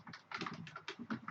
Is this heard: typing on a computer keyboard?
yes